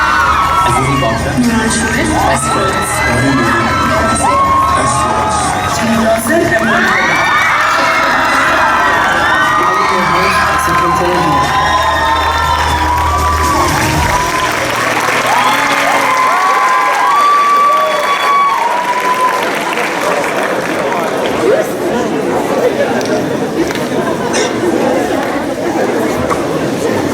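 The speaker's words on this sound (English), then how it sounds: "We ask you to please applaud and clap your hands once more" A large crowd of young delegates at a Model UN conference cheers, shouts and whoops, with scattered applause and loud chatter filling the hall, then the din thins to a dense hum of voices.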